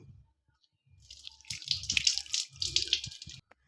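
A homegrown pomegranate is washed under running water, starting with quiet handling before a close splashing, trickling rush of water over the fruit for about two seconds, then stopping.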